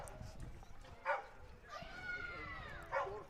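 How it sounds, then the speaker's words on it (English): Several dogs barking and yipping at each other in the stands at an evening Cape Cod League baseball game, distant bursts under steady crowd murmur. "Some dogs have upset each other."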